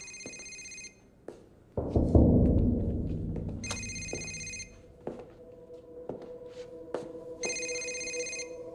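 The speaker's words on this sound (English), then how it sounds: "Whose phone is that?" A telephone bell rings in three repeated bursts, bright and electronic, with thumps, clatter and movement noises filling the gaps between rings.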